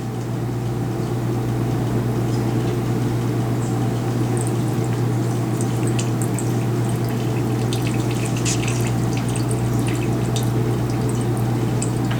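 A top liquid layer is drained off in a steady trickling pour with scattered drips, continuous and close over a constant low hum.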